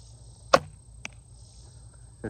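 Arrow loosed from an Elite Archery Flex recurve bow in an outdoor field test, a single sharp close release snap followed by a faint thwack and a distant impact, with quiet background hum and no voices.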